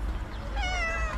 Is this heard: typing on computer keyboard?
no